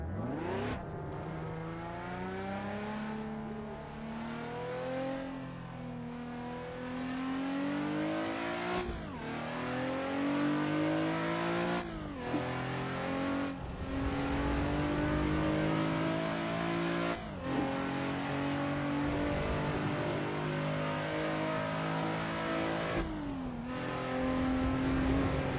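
A race car engine in the racing game Assetto Corsa revs up repeatedly through the gears, each climbing whine broken by a brief drop at the shift, loud and continuous throughout.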